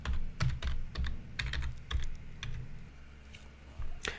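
Password being typed on a computer keyboard: a run of close, quiet key clicks in an uneven rhythm, slowing near the end, with no talking.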